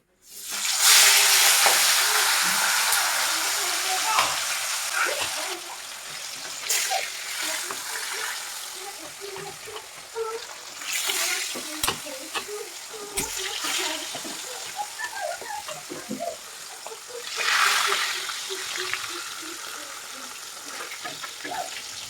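Steady crackling sizzle of fish frying in hot oil, loud at first then continuing with bursts of spatter and a few scraping sounds.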